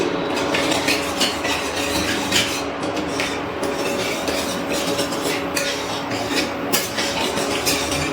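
A utensil stirs potol korma with added water in a pan, scraping and rubbing steadily and close for several seconds, with no voices.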